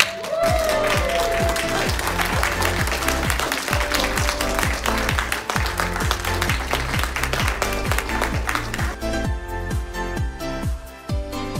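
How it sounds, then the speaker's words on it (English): Applause from the audience at a wedding reception, up close and mixed with loud pulsing music beats, thins out near the end. "give a great big round of applause for the new Mr."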